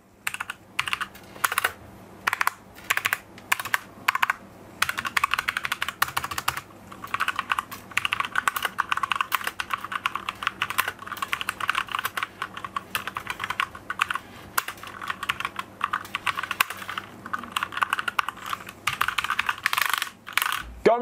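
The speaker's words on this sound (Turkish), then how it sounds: "Şimdi gelin klavyemizin tuş seslerini biraz dinleyelim." Mechanical key presses on a Mantistek GK2 RGB gaming keyboard, rapid close clacks in bursts and steady runs of typing with short pauses, no voices.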